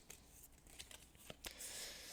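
A stack of game cards being shuffled by hand, soft riffling and flicking bursts that are quiet and close, with no talking.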